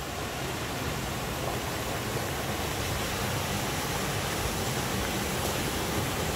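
Steady, dense rush of a mountain valley stream, constant and broadband like water running over rocks, with no voices or breaks.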